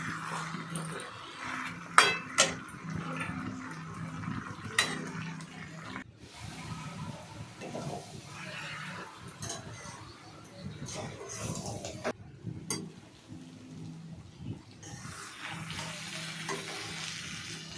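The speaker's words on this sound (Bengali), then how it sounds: "চারিদিকে নাড়াতে হবে যে দেখবেন যাতে না পুড়ে যায়" A katla fish head with puffed rice sizzles and fries in a pan while being stirred, with soft scraping and occasional clinks of a utensil against the pan under quiet talk.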